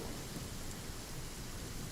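Steady rain with rumbling thunder in the open world of Genshin Impact on PS4, a dense, even wash of downpour with low rolling rumble underneath, constant throughout with no voices.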